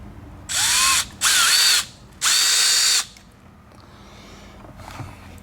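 Power drill with a left-hand bit boring out a broken bolt on a YZ450F dirt bike, three loud whining bursts with short pauses between, the motor pitch sagging as it bites, then quieter shop noise.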